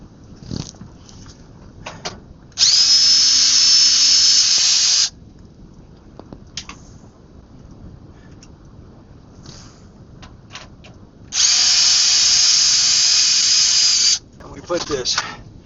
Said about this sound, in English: I'm going to use the drill, put them back in place on its lowest setting